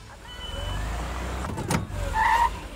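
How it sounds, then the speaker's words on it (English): A cartoon car driven and crashed: a steady engine drone and road rumble with a brief clattering impact, then a rising whine near the end. "Crashed Brian's car."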